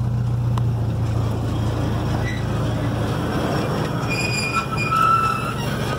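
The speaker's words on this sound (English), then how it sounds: "Here comes the old train." An old train rumbles past nearby in the redwoods in a continuous loud roar, with a low hum early on and faint metallic squeals and tones toward the end.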